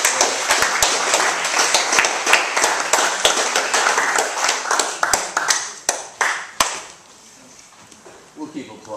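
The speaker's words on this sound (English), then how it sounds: "We'll keep applauding." An audience at a reading applauds steadily, with sharp, close individual claps standing out over the crowd's clapping. The applause thins and fades near the end.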